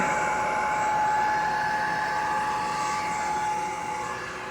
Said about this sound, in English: So I'm going to vacuum the house and we'll see exactly how much this can take.